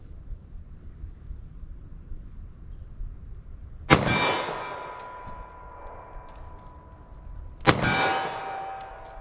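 Two loud, sharp .45 ACP reports from a Glock 21 pistol fired at a target 25 yards away, about four seconds apart. Each crack rings out with a long metallic decay over steady outdoor wind noise.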